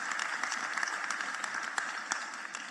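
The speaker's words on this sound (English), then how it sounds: "I think they deserve a round of applause." A large audience applauds learners' record matric bachelor passes at a results announcement, a steady wash of distant, moderately faint clapping sustained throughout without speech.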